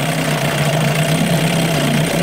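A 1988 Johnson Evinrude 6 hp outboard motor idles steadily in a test barrel of water, a loud, close, even drone with a constant low hum and no talking.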